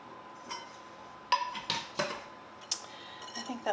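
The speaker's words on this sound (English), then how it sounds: "I just wanna kind of mix all of this around to get it incorporated." Ingredients stirred and mixed in a bowl for an Irish-style dish, giving a few scattered utensil clinks and scrapes against the bowl, close and moderately loud with quiet gaps between.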